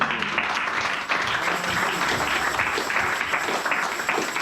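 A church congregation applauding together, a dense, steady wash of clapping that holds at an even loudness throughout without a break.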